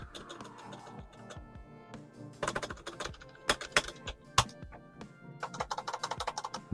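Typing on a Spigen ArcPlay mechanical keyboard with poor stabilizers, a close, irregular clatter of key taps that starts light and builds into denser bursts of sharp clicks and thunks.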